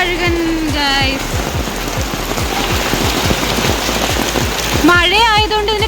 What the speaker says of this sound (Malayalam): മഴ ആയതുകൊണ്ട് ഇതിനെ കാണാൻ പറ്റത്തില്ല